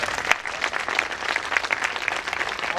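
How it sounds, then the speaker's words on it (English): An audience at a Delhi Gymkhana Club talk breaks into steady, moderately loud applause, with many hands clapping together in a dense patter throughout. "I request you to kindly give her that note of applause"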